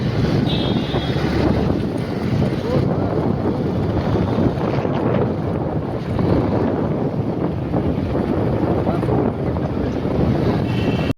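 During a motorcycle ride, wind roars and buffets across the microphone in a steady, loud rush, and the engine is not clearly distinct beneath it.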